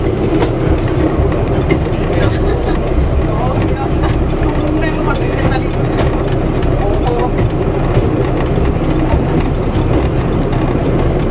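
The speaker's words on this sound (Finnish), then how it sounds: "Vanhaa tunnelmaa, kun kiskat korkkaa." Rau-Rto20 museum rail car running on track near Nokela, Oulu, with steady loud wheel rumble and rhythmic clacking over rail joints from inside the cab, while people talk throughout.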